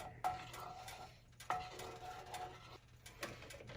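A spoon stirring gravy for country fried steak in a pan on the stove, giving sharp metallic clinks against the pan at a few moments over a scraping, sizzling background, close and moderately loud, with no talk.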